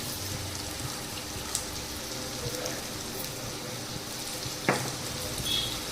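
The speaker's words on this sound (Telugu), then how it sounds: "ఆనియన్స్ వేద్దాం ఉల్లిగడ్డలు వేగుతున్నాయి కదా" Onions sizzle steadily in hot oil with mustard seeds and turmeric, a close, even crackle with a couple of sharp pops and a faint spoon clink.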